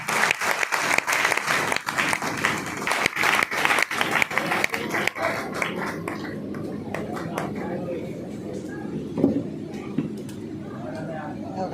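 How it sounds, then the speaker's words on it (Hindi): Loud, dense applause from an audience at a business meeting, rapid claps filling the first half and then thinning into a softer patter with crowd murmur. "सबसे जोरदार तालियां"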